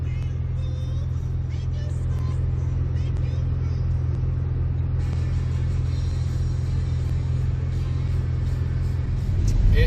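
A deep, steady Facel Vega car engine rumble idles close by, swelling slightly louder near the end.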